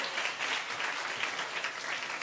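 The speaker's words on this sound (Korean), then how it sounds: "박수 한번 주죠." A congregation-style audience at a Monday civic education gathering claps together, a warm, even wash of applause that holds steady from start to finish without speech over it.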